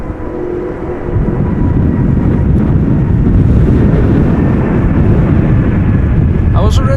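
An airliner passes immediately overhead at Amsterdam Schiphol Airport on a crosswindy day, a loud, close, rumbling roar that swells after the first second and holds steady, with wind buffeting the microphone.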